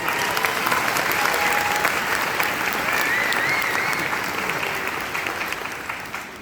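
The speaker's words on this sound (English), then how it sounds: "Please give yourselves a round of applause from the mountain" A graduating university class at a 2019 commencement bursts into loud, thick applause, a broad crowd clapping that stays strong and then slowly tapers near the end.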